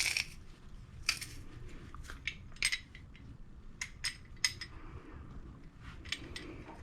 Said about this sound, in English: I'm going to press it because, again, you get more garlic per garlic when you press garlic.